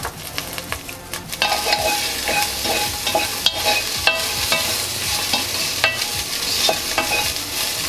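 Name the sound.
cauliflower frying and being stirred in a pan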